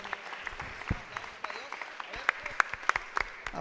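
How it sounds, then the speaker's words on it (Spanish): A church congregation at a Catholic Mass applauds, a diffuse wash of many hands clapping with sharper claps standing out, moderately loud, under voices that carry through the room. "Fuerte ese aplauso para el Señor."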